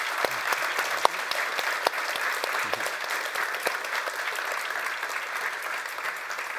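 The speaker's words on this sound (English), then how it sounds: "Can we applause the panel?" A conference audience at a Shopify partner event applauds the panel, steady moderate clapping from many people in a large hall with a few sharper individual claps standing out.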